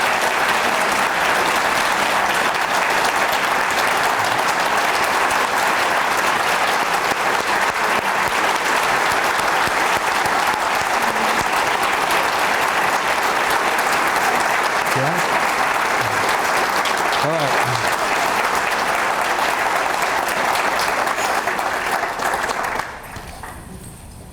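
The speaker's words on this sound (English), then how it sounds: "show a round of support, a loud, strong clap support" A panel audience breaks into loud, dense applause that holds at full strength for over twenty seconds before cutting off sharply near the end.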